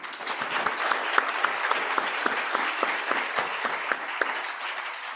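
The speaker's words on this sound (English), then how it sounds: "once again deserve a rousing applause one last time." A lecture audience breaks into sustained, dense applause, many hands clapping steadily at close range for the whole stretch with a few sharper individual claps standing out.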